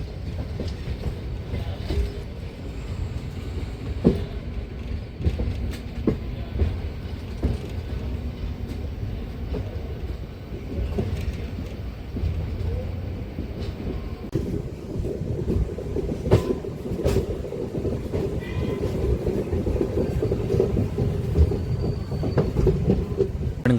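MEMU local train running on rails between Bodhan and Karimnagar, heard from inside as a steady loud rumble with clickety-clack wheel beats and occasional squealing throughout.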